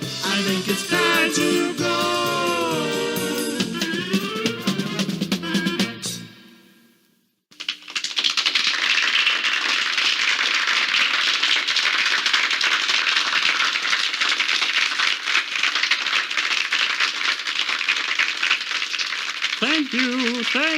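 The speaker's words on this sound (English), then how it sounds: "Listen to that thunderous applause, Elmer" Applause from an audience at a church children's puppet show: a dense, sustained wash of many hands clapping at steady loudness for over ten seconds, following singing that cuts off into a brief silence.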